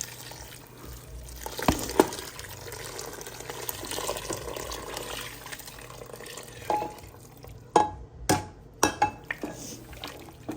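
Water and chicken broth poured into a gumbo pot, a steady splashing flow running for several seconds, then a few sharper knocks and clatters of the pot near the end, with no talk over it.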